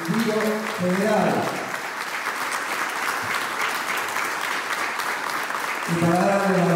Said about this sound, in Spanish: ¿qué les parece si arrancamos con un fuerte aplauso